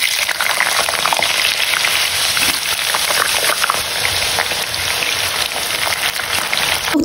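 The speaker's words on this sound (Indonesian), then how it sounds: "goreng kentangnya" Potato chips frying in a wok, a loud, steady, close sizzle of hot oil that continues throughout without any talk.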